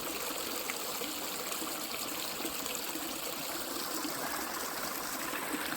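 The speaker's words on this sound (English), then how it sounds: "Good Georgia mountain stream water." Georgia mountain stream on the Appalachian Trail flowing in a steady, even wash of running water that trickles and gurgles close by, with no voices.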